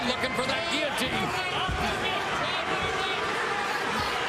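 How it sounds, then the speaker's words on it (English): Roaring crowd at a Bellator MMA fight, a dense, loud, continuous wash of cheering and yelling with no letup, filling the arena as the fighters grapple. "You hear the crowd going crazy"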